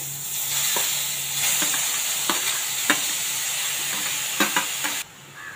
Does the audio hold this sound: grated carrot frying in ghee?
yes